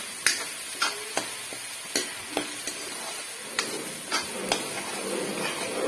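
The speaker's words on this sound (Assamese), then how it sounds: "এইখিনি ৰঙা হোৱালৈকে মই অকণ ভাজি থাকিম" Vegetables fry in oil in a home kitchen pan, a faint steady sizzle broken by sharp, irregular clicks and taps of a stirring spoon against the pan.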